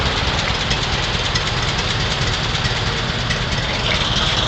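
Restored 1925 Ford Model T coupe engine running on a cold day, a loud steady idle with rapid even knocking pulses and broad rattly mechanical noise throughout, close by with no talk.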